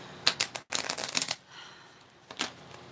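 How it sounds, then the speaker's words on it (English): A deck of cards is riffled in quick bursts, crisp papery flutters close by, then a brief pause and one shorter shuffle, with no talking over it. "while I'm shuffling this for Trisha."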